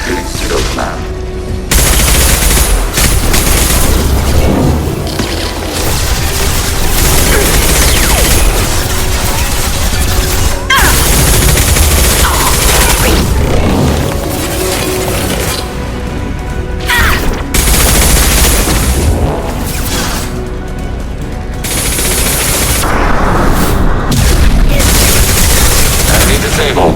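Turret gunfire in the sci-fi shooter Mass Effect 2, loud continuous rapid bursts and booming blasts that stay dense nearly throughout, with a few short lulls and voices speaking over the combat.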